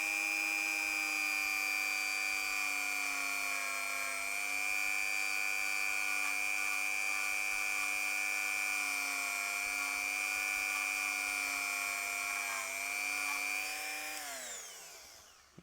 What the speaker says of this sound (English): Does a great job, this Dremel, this Draper. You know, this rotary tool cost me about 20 quid on Amazon.